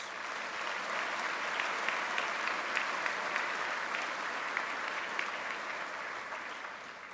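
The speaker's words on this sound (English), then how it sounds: "Let's give them a warm hand of applause." An audience at an awards presentation applauds warmly, a dense, steady wash of many hands clapping that carries on for several seconds before easing slightly at the end.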